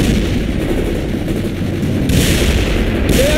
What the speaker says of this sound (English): Set up that machine gun.